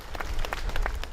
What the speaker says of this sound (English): Applause and bubbles saw Elsie Dott on her final trip through Southport